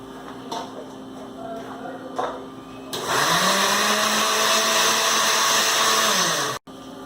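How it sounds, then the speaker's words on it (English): An electric blender whirs into a loud, steady roar while mixing liquid ingredients, following a few quieter kitchen clicks and knocks, then cuts off abruptly near the end. "First, mix the liquid ingredients in a blender."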